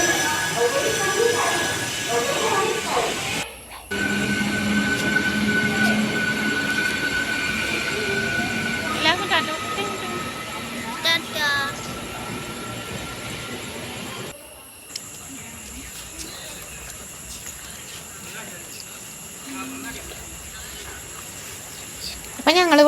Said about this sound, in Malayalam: അപ്പം ഞങ്ങളിവിടെ റെയിൽവേ സ്റ്റേഷനിൽ പ്ലാറ്റ്ഫോമിൽ ഇങ്ങനെ ഇരിക്കുകയാണ്, ട്രെയിനും കാത്തിട്ടോ.